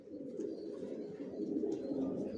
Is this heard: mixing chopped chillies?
no